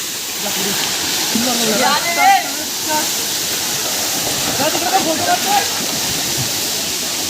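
The Gaonkhadi waterfall gives off a steady, loud rushing roar that never lets up, while people talk over it.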